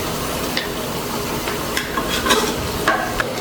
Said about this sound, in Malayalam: ഇതൊന്ന് ബ്രൗൺ കളർ ആവുന്നത് വരെ ഇളക്കി കൊടുക്കാം.